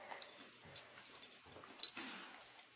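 A guilty brown dog whimpers and whines close by in a run of soft, high-pitched cries and breathy yips, with a slightly louder whine near the end.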